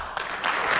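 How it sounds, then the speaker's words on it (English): Brief burst of audience applause at an Apple Watch announcement event, a dense hiss of clapping heard from a distance for under a second. "I can't believe he's getting applause for that"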